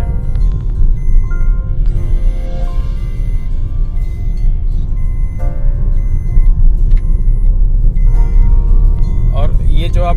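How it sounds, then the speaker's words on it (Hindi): A car engine hums steadily at cruising speed with road rumble throughout, while a person talks over it and a few faint beeps sound. "इस तरीके से आपकी गाड़ी चल रही है।"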